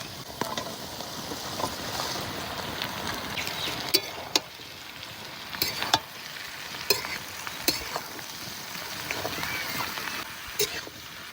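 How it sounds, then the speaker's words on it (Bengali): Spring onion leaves frying in oil with a continuous crackling sizzle, broken by clattering scrapes of a spatula stirring the pan at irregular moments. "একটু জল দেবো না, শুধু এই তেলেই ভাজা হয়ে যাবে।"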